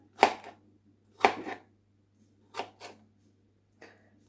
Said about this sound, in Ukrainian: І далі ріжемо шматочками